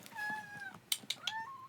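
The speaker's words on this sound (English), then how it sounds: "Is that a kitty. cat?" A house cat meows softly several times indoors, drawn-out calls followed by shorter chirpy meows, faint and alone with no talking.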